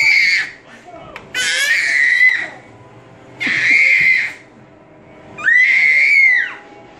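A young child lets out repeated loud, piercing screams, four shrill bursts separated by short pauses, close to the listener.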